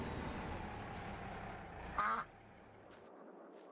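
Ducks quack in the farming video game Farming Simulator 22, with one brief, clear quack over a steady low engine-like hum that then drops away.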